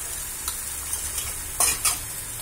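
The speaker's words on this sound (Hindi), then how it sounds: "अब हम इसमें मसाले ऐड कर देंगे, 1 चम्मच हल्दी पाउडर डाल दिया है," Turmeric powder and spices hit a hot pan for palak paneer, giving a brief, soft sizzle with a couple of quick stirring scrapes near the end, close up and with no talk.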